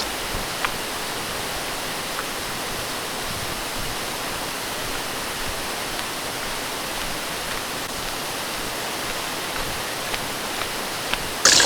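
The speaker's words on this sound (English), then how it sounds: "I can hear the waterfall." A waterfall roars steadily at a short distance, a dense, even wash of rushing water that stays constant throughout with no talk.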